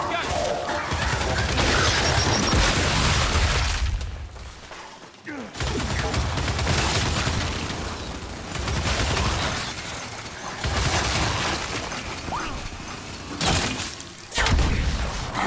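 Rapid bursts of gunfire from the Gears 5 video game during a heavy firefight, loud and dense, coming in waves with short gaps, mixed with shouting players talking over it.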